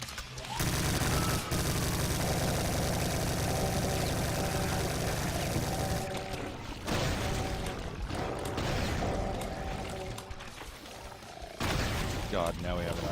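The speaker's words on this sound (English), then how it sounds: "Bravo Zulu plasma rifle." Plasma rifle fire in Doom 2 sounds as a dense, sustained stream of electric zaps, with explosions and monster noises from a heavy fight layered on top and only brief lulls.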